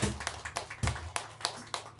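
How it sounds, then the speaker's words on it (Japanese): A small group claps for Iijima Kotaro at a Green Team gathering, several sharp, separate claps spaced irregularly at close range, sparse rather than a full roar. "飯島幸太郎に拍手。"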